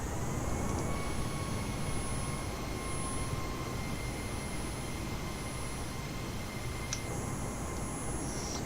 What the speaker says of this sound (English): we're just gonna go ahead and stop the thrust reverses there